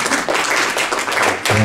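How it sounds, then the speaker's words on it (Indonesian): A church congregation at a Thursday service applauds, a short burst of close clapping with a voice briefly at the end. "Tepuk tangan buat ibu-ibu"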